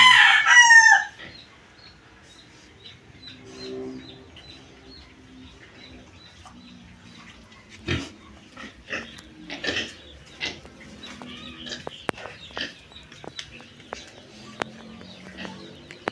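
A rooster crows loudly and close at the start, then chickens and chicks cluck and peep more softly in a backyard setting, with scattered bird chirps.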